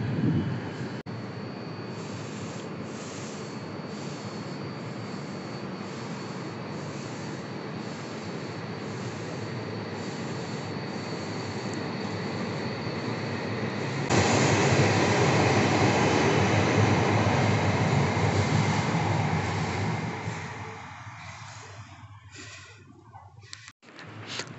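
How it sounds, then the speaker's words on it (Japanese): A Hayabusa-Komachi shinkansen passes at 320 km/h as a loud, sustained rushing roar of wind and rail noise, swelling sharply midway and then fading quickly to near quiet. "はやぶさ小町号の通過をご覧いただきました。"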